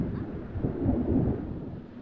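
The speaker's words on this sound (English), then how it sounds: "Damn, the thunder, dude." Thunder in The Sims 4, a deep rolling rumble that stays loud and steady for the whole stretch, with no talking over it.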